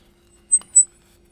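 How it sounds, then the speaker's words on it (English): Two brief, high-pitched squeaks from handling headphones, close and quiet, against near silence. "Sorry about that squeaky noise."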